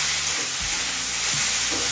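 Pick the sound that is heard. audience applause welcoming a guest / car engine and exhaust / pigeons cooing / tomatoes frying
tomatoes frying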